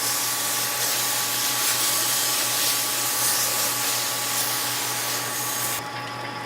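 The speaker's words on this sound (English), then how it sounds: "Give it a good rinse down." Water spraying to rinse down a roller mill pulverizer, a loud steady hiss of rushing water against metal that cuts off sharply near the end.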